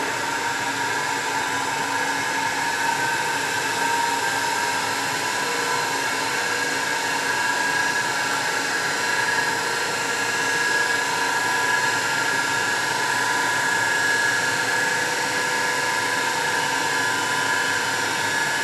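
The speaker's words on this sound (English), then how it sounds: "so here I have adjusted speed of a motor at 1500 rpm" An electric motor on a test bench running steadily at about 1500 rpm, a continuous, loud, even whine and hum with fixed tonal lines that hold unchanged throughout, with no speech.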